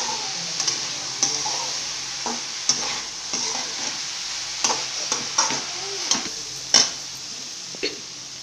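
Dried fish (chena karuvadu) frying in a pan with a steady sizzle, while a spoon scrapes and stirs it in irregular knocks and scrapes, close up and with no talk.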